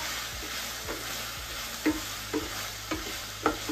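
Pieces of sweet and sour pork being gently tossed in a hot pan, with a steady sizzle and several soft scraping and clinking stirs spaced through it, close and with no talk.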